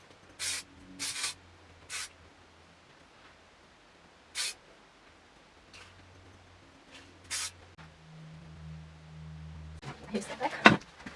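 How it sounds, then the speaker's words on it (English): Hairspray is sprayed onto a freshly cut and coloured pixie cut in several short hissing bursts, spaced apart and fairly close, with quiet handling noise and brief rustling near the end. "I'll just finish it off with this hairspray."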